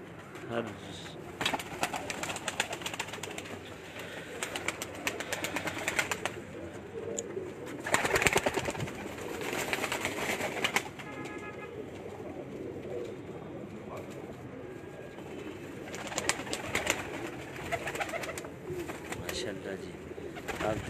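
Ali-wala pigeons coo softly in low, repeated throaty calls at night, with occasional rustling and a voice talking intermittently in the background.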